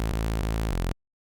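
A Frenchcore synth bassline made in Serum buzzes in loud, dense repeated notes with a brief stutter, then cuts off abruptly into silence.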